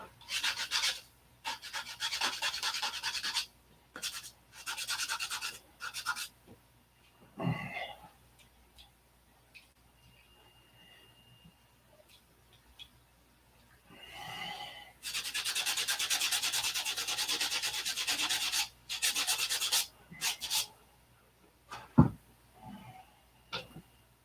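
Sandpaper rubs over a burned spot on a small piece in repeated bursts of close, scratchy strokes separated by quiet pauses, with occasional taps and clicks between them.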